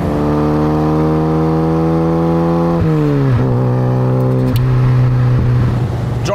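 A Lada Riva driven hard, its engine droning loud and close at high revs, with a clear gear change dropping the pitch partway through before it climbs again under load.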